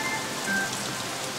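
Steady rain falls as a dense, even hiss of drops on surfaces, fairly loud and continuous with no voices.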